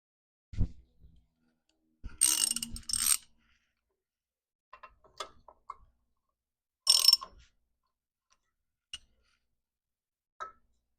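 A ratchet tightens the lock nut on a Torqeedo outboard propeller in a few short bursts of clicking, separated by quiet pauses and scattered small metallic taps.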